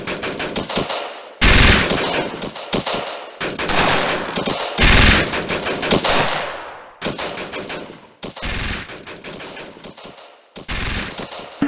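Heavy machine gun fire in a war video game, with loud sustained automatic bursts broken by short gaps and overlapping volleys, close and dense with no talk.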